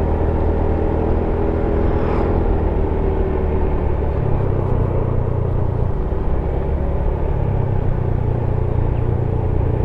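Car driving along a damaged alternative road from Kinilow toward Tomohon near Manado, a steady loud low rumble of engine and tires throughout with no pauses and no talk.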